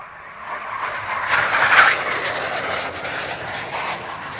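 A Saab J105 jet at an air show, Royal International Air Tattoo 2011, passing with a broad roaring whoosh that builds to a peak and then trails off into a steady distant rumble, with no talking.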